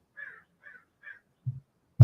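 Three harsh crow caws outdoors, evenly spaced and moderately near, followed by a couple of low thumps.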